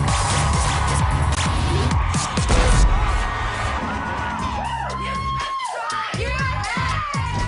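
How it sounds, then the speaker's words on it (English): A lively crowd at a televised modelling competition cheers, whoops and yells loudly, with shrill screams and shouting voices layered over a dense roar that stays close and intense throughout. "let's hear it for the ladies from the USA, from the UK"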